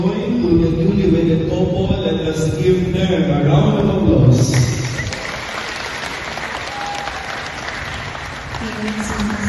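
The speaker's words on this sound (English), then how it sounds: "let us give them a round of applause" Guests at a wedding applaud the newly wedded couple: clapping swells over a background of voices and music, then thins into looser, scattered claps that carry on to the end.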